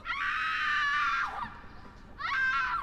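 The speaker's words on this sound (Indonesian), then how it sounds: "Ada suara cewek teriak di hutan." A woman screams in a forest in the horror game Silent Breath, in two loud, drawn-out cries: a long shriek falling off, a short pause, then a second scream.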